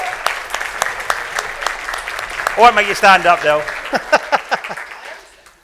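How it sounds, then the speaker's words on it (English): Audience applause for Delphina and the marketing team at a company welcome address, scattered clapping under someone speaking, which fades out by the end. "So actually, a round of applause for Delph and the team."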